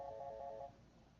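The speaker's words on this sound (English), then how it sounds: "Phone." A phone ringtone plays a short, steady electronic melody close by at moderate volume, then cuts off abruptly, leaving quiet room background.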